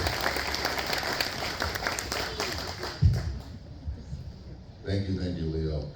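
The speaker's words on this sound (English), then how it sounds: "Give this man a round of applause" Applause from an audience at a substation grand opening in Lake Havasu City, a dense patter of clapping that fades out midway, with a voice speaking over it and the clapping returning toward the end.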